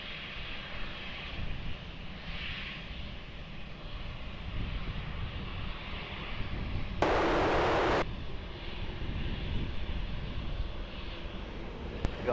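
An airplane taking off from runway 20 at Lisbon Airport makes a faint, distant, steady engine roar and rumble, interrupted by a brief harsh burst of static near the end.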